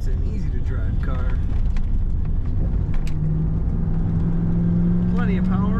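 A 1988 Pontiac Firebird Trans Am with automatic transmission runs its engine in a low, steady rumble, joined later by a rising whine, while someone talks over it throughout.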